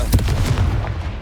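Confringo blasting spell exploding in Hogwarts Legacy, a burst of booming, gunfire-like impacts in quick succession, loud and close, trailing off into a rumbling tail.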